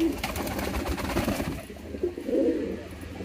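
A male pigeon coos nearby in low, throaty bursts over a busy background of rustling and bird noise, with a clearer coo standing out toward the end.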